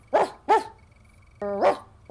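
Cartoon dog barking sound effect in the style of Scooby-Doo, a series of loud, close, tonal barks, one stretched into a longer woof, with no talking.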